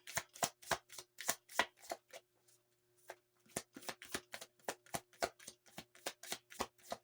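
Cards shuffled by hand for an angel card and oracle reading, a quick run of crisp riffling bursts, a brief pause, then another steady series of close, rhythmic flutters with no talking.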